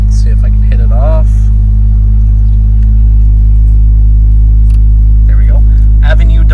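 A Ferrari 296 driving the Monaco F1 street circuit gives a loud, steady low engine drone that fills the cabin, with a voice talking over it.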